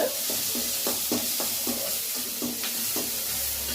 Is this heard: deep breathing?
no